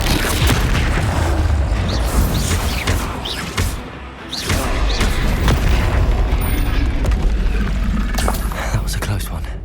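Bombarda spell explosions from the Hogwarts Legacy video game: heavy booming blasts and crashes pounding loudly and almost without pause through dense game combat noise, with voices speaking over it.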